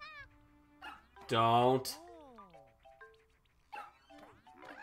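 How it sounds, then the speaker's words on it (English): The Undo Dog in the Super Mario Maker 2 video game gives a loud cartoon bark and whimpering yips, with a person talking before and after. "The undo dog."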